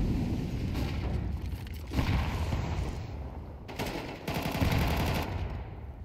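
Bursts of Galil rifle fire in Counter-Strike on Vertigo, rapid automatic volleys heard as dense crackling strings of shots that come loud and close and stop and start several times with no voice over them.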